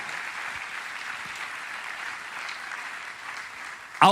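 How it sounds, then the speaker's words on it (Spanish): A church congregation applauding, a steady, moderately quiet patter of many hands clapping throughout, ending with a sudden loud bump or knock. "Impresionante, merece un aplauso."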